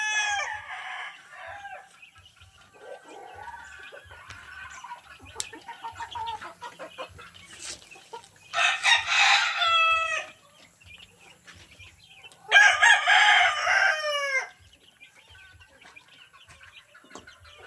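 Several roosters crow in separate bursts, some nearer and louder than others, with soft clucking and farmyard chatter in between.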